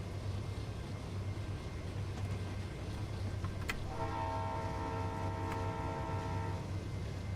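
Freight diesel train in Train Simulator rolling past over a steady low engine rumble, with a sustained multi-tone horn sounding midway and a couple of sharp metallic clanks.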